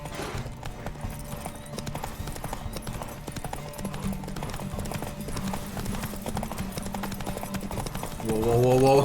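Roach the horse galloping in The Witcher 3, with a rapid, steady clip-clop of hooves running throughout, joined by a brief voiced sound at the end.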